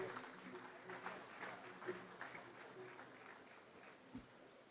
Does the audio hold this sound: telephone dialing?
no